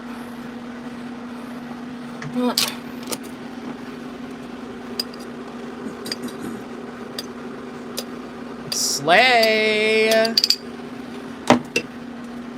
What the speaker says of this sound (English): the sound of the spoon hitting inside like the glass is frying me